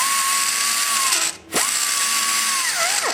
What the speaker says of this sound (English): I got to hit it with a sand roll.